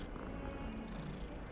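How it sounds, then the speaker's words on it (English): A cat purrs softly and steadily in the video game Hogwarts Legacy, a low rumbling hum close by, with no talking. "That is a cat."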